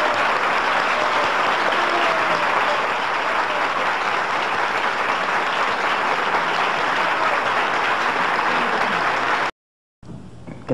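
An audience applauds a pianist at an evening music program, with dense, loud, sustained clapping that runs unbroken for several seconds. It stops abruptly, then picks up again briefly.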